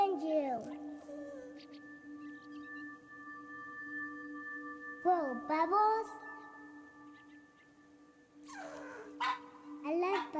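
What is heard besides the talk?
dog Manju barking in video game That Dragon, Cancer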